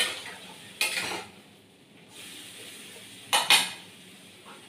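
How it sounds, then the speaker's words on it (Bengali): Snake gourd being stirred in a pan, two separate bursts of a spatula scraping and clattering against the metal, with quiet pauses between and no talking. "আবারও আমি এটাকে নাড়াচাড়া করে নেব।"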